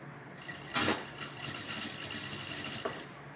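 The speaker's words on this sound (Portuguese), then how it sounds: "Então, você vai encaixar ele aqui e vai costurar o viés na peça." A sewing machine stitches bias binding onto a fabric cover for a vaccination card. It runs in a steady, close burst with a small clack near the start and another near the end.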